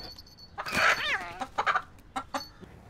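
Rooster in a house clucking and crowing up close, a loud warbling call followed by several short, sharp clucks.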